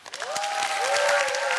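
Audience clapping at a Korean talk event, a full steady round of applause that rises quickly and stays loud, with a faint held vocal tone running underneath.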